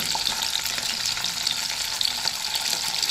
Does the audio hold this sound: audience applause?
no